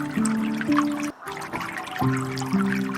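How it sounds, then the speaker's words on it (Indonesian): Gentle trickling water plays under soft, sustained musical tones, a steady quiet babble with one brief dropout midway. "Dengarkan suara gemericik air."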